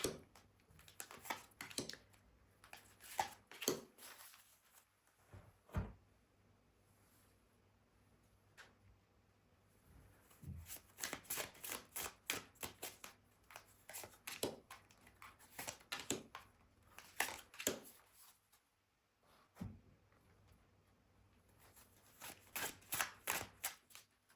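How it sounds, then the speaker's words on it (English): Tarot cards being shuffled and pulled for a reading, heard as bursts of soft riffling and slapping, close and fairly quiet, with short pauses between bursts. "Let's pull our cards first."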